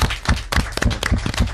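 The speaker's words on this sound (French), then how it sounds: "On les applaudit." A small group of children claps in a quick, uneven burst of applause, close and fairly loud, with no talking over it.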